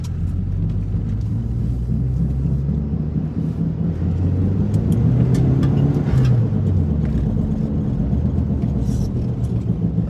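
An Audi B5 A4 rolls into a snowy lot, its engine a steady close rumble from inside the car with the pitch rising and falling as it revs, continuous for about ten seconds.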